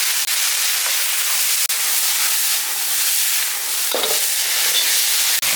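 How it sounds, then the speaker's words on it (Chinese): Lard, ginger and dried chili sizzle with green vegetables in a hot stir-fry, a steady close crackling hiss broken by a few short scraping stirs, with no voices. "再炒个青菜，来点切好的猪油，下入姜和干辣椒"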